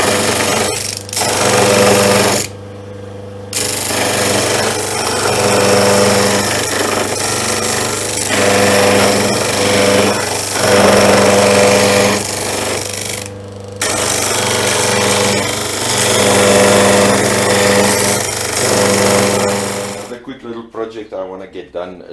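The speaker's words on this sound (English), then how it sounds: "on a disc sander, and then sand up to the line that I just marked" A disc sander grinding wood fills the space with a loud, buzzing drone, cut by a few brief pauses, and a person talks at the end once it stops.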